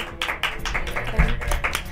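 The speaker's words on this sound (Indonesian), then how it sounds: "Tepuk tangan sih buat Huda dan Mia" A few people clap in honour of two performers, Huda and Mia, during a chat show, with irregular sharp claps sounding close, loud and fairly sparse, alongside some background voices.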